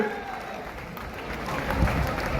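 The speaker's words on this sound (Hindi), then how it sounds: "जोरदार तालियों से स्वागत किया जाए।" A gathering of village sarpanches gives strong applause to welcome a guest honoured with a turban, a steady wash of clapping from a crowd, moderately loud and continuous.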